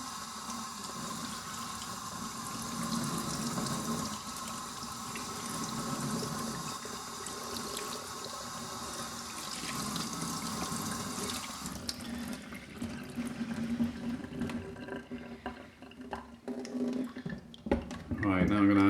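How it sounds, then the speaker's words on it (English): Water runs steadily from a tap in a gentle rinse over a telescope primary mirror, a continuous broadband splash that thins out and turns sputtery near the end. "So, next step is just a gentle rinse."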